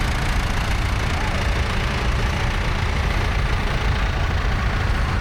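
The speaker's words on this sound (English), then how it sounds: "Here we go, the 1260 Fergie. Look at this coming round now." Vintage Ferguson 1260 tractor engine running steadily at an agricultural show, a continuous low diesel rumble and knock held at constant loudness throughout, with no talk over it.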